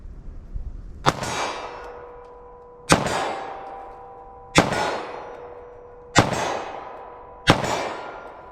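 Five 9mm handgun shots fired one at a time at a 25-yard marker in a short-barrel ballistic test, each a sharp loud crack with a ringing metallic clang and decaying echo, spaced about a second and a half apart.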